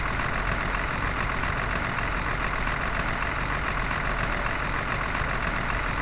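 A steady, droning video game tank engine runs continuously at an even pitch, a heavy mechanical hum with no change in speed and no talking.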